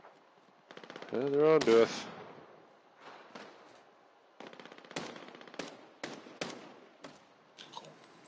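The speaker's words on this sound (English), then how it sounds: "I think I just got sniped at." Sniper fire in Call of Duty: Warzone, heard as scattered sharp cracks and snaps at moderate distance. They are spread out irregularly, with a brief burst of louder noise early on and a player talking.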